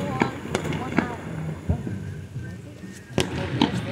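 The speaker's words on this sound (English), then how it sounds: "Fireworks are going wild!" Fireworks go off at a Colorado fireworks show: irregular sharp booms and crackling pops, several distinct bursts over a few seconds, heard from a distance against a constant murmur of crowd voices.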